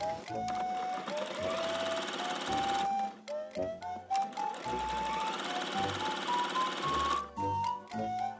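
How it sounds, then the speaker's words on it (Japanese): A sewing machine stitches a seam about 5 mm in along the edge of fabric folded right sides together. The needle chatters steadily in several close runs broken by short pauses, with light background music underneath. "ミシンで端を縫います"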